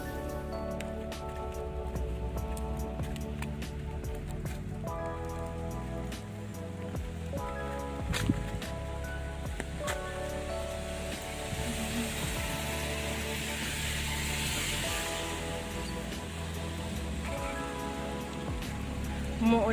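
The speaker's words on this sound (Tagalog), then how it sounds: "Umuulan kasi kaya ayan." Steady rain patters on a surface throughout, with a continuous hiss and scattered drops over a low background hum.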